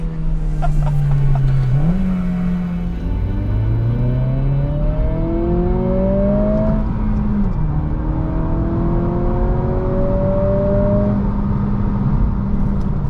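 A 2023 Acura Integra engine revs up through the gears, pitch climbing smoothly to a sharper, higher howl as VTEC kicks in around 5,500 rpm, loud and continuous from inside the car.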